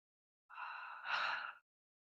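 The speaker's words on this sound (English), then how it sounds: "Big breath in and out." A single deep breath, drawn in and then released a little more forcefully, soft and close during a floor stretching exercise, with no talking.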